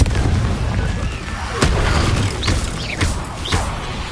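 Confringo blasting spells in Hogwarts Legacy burst in a string of booming explosions, each one sharp and loud over a rumbling game backdrop, several blasts spaced about half a second to a second apart.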